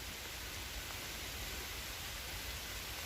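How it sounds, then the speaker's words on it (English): Rain falling steadily on leaves during an autumn woodland walk, a continuous close hiss with no distinct drops standing out. "Can you hear the rain?"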